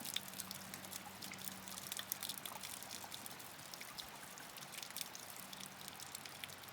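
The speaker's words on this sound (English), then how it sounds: "You can see the water draining out of your pump there." Water drains out of a pump, trickling and dripping steadily with a bright splattering texture, continuous throughout with no voices.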